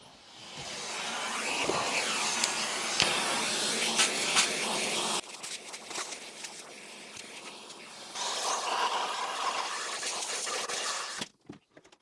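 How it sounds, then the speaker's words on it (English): Dyson V15 or V11 cordless vacuum cleaner with lost suction whines and roars close up, its pitch shifting as the nozzle moves, then cutting off abruptly near the end. "clean it out with your full-size vacuum"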